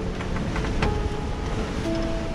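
Aboard a sailing yacht with a stubby rig, big waves rush and crash under strong wind, forming a dense, constant roar with a few sharper splashes near the hull, loud and close.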